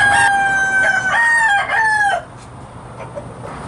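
A rooster crows loudly in a chicken coop in Louisiana, one long rising and falling call close by, followed by softer clucking and general coop noise from the flock.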